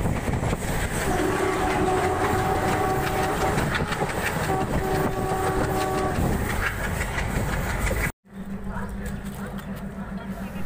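A passenger train on the Sapatgram to Kamakhya line rumbles and clatters loudly with sustained tonal horn or whistle notes, then the sound cuts abruptly to a quieter steady hum.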